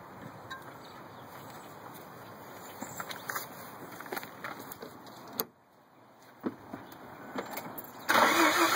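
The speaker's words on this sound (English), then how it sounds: "start the car again" Mazda RX7 rotary engine already running at a steady mid-level drone, with brief clicks and sharp bursts, a short drop near the middle, then a louder, harsher rev near the end.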